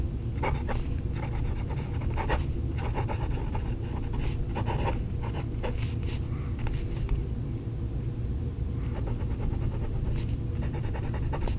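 Hongdian D1 piston-fill fountain pen scratching across paper, close and clear, with bursts of nib strokes and short pauses between words, the scratchy writing heard alone over a low background rumble.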